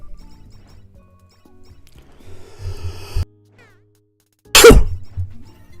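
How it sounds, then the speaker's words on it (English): A person coughs into a live streaming microphone, first a rough burst of coughing that cuts off sharply, then after a short silence one loud, close, explosive cough, with no speech. "I think I accidentally unmuted while I was still coughing."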